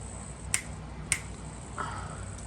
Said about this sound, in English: if you wanted to snap or clap, we can do like that, a little louder